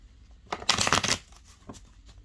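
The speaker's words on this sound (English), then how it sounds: "I'm gonna shuffle again because I'm gonna shuffle it." A card deck being shuffled, an oracle deck of the kind used for card readings, gives a burst of riffling, crisp flapping close to the microphone, followed by a few softer rustles and taps.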